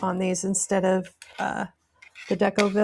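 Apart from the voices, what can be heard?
No everyday noise stands out behind the speech.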